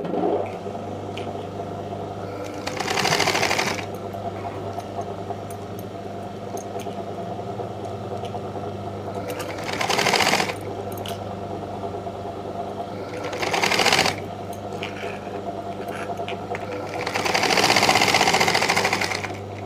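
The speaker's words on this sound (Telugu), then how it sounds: "ఇలా వన్ సైడ్ కుట్టిన తర్వాత ఈ సైడ్ కూడా అలానే కుట్టుకోవాలి" A sewing machine stitches a puffed blouse sleeve in several loud runs of rapid mechanical whirring, separated by pauses of lower steady motor hum.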